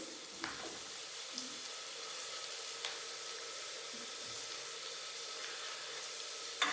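Chopped onions sizzle steadily in sesame oil in a pan for a homestyle Mysore masala dosa filling, a constant close frying hiss with a few faint clicks of stirring and no talking.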